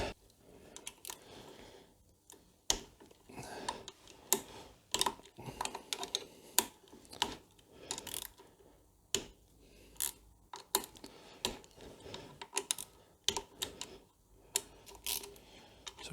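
A ratchet with a 10mm socket works the clutch cover bolts on a Suzuki V-Strom DL650, making bursts of quick, close metallic clicks separated by short pauses.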